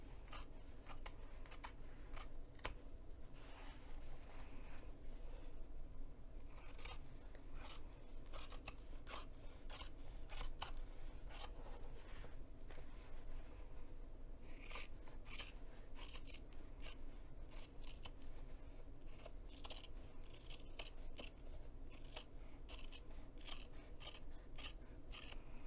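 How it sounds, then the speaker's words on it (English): Scissors trim foam overhang around fabric hexagons, a long run of rapid crisp snips with short gaps, close and soft, with no talk. "we're going to flip to the wrong side of the foam and just trim any overhang of"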